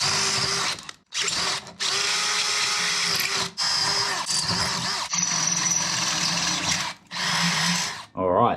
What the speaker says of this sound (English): So what I'm going to do now is drill out those holes.